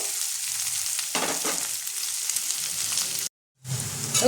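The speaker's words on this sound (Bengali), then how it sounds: "পেঁয়াজটাকে আমি একটু লাল করে ভেজে নেব।" Chopped onions frying in a pan for a Bengali-style chicken keema with chickpeas, a steady hiss of sizzling oil with a few stirring scrapes, then a brief silent gap before the sizzle resumes.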